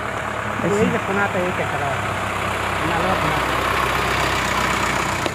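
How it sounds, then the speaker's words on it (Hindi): A tractor comes along a roadside, its engine a steady, loud, low drone that runs the whole time beneath people chatting outdoors. "गाड़ी आ रहा है, देखिए उधर से आ रहा है ट्रैक्टर"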